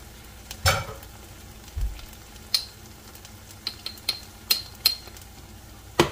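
Sylheti shutki bhorta, dried fish mash, fries in a pan with a faint steady sizzle, broken by several sharp clacks and scrapes of a spoon stirring, no voices.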